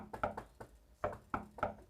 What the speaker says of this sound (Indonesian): ada yang ketok-ketok